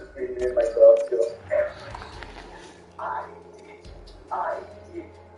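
Pet dogs barking in short bow-wow bursts with occasional whimpers and yips, a few distinct barks spaced across the moment while someone talks over them close by.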